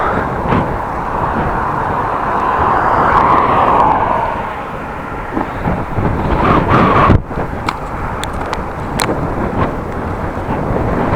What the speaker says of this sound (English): every gust of wind I'm gonna feel.